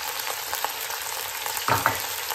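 Chopped shallots hit a hot pan beside a halved garlic head and sizzle steadily and close, with a soft burst of crackle and a couple of scraping touches partway through.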